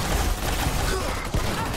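Pistol fire in the online shooter Dirty Bomb, a dense, loud run of game gunshots and impacts packed together over busy game noise, with no clear gaps between shots.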